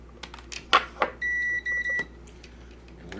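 Three sustained electronic tones from a multimeter on continuity test during a Sega Game Gear repair, clear and close, preceded by a few faint clicks and taps of the probes.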